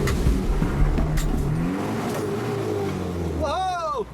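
Nissan GU Patrol 4WD revving hard as it climbs slippery off-road ridges, a loud, continuous engine roar with shifting pitch up close, and a brief voice near the end.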